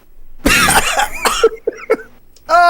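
A close, harsh cough bursts out, followed by a few shorter rough coughs and throat sounds, then a brief voiced noise at the end.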